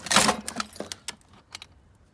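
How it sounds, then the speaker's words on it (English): A handful of Allen keys jangling and clinking together in a workshop, a burst of metallic rattles followed by scattered lighter clinks, close and fairly faint. "Allen keys."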